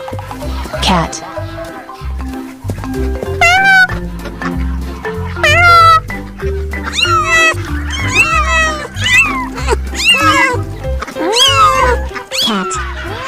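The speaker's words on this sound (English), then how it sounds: "Cat." A domestic cat meows several times in clear, rising and falling calls spread across the clip, set over steady background music, with farm animal sounds in the mix.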